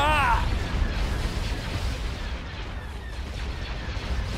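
Starship battery fire and explosions in a Star Wars space battle game, deep rumbling booms under a steady roar, with a short synthetic tone at the start and faint radio-style chatter.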